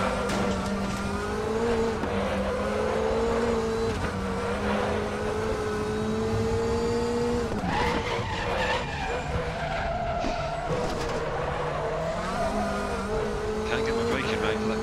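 A WTCC touring car in RaceRoom at Macau, its engine droning steadily as the rear wheels lock under braking with drawn-out tyre squeal, loud and continuous throughout.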